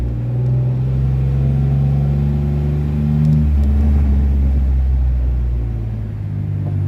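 A 2011 Jeep Wrangler drives and turns around, its engine giving a steady, close, low rumble that rises slightly midway, with no talk over it.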